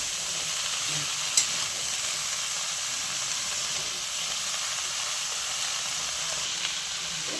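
Mixed vegetables with carrot stir-frying in fish oil, a loud, even sizzle and hiss close up that runs throughout, with an occasional faint clink of a utensil.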